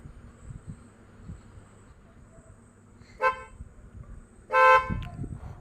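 A car horn refitted to the car gives two honks about 1.3 seconds apart, a short one and then a louder, longer one. Both are heard over a low, rumbling background with no speech.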